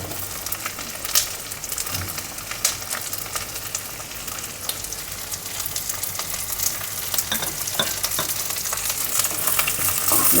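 Four halved green chillies and a diced capsicum sauté in a pan for chilli bhetki fish, giving a continuous crackling sizzle with stirring scrapes that swells slightly toward the end; nobody talks.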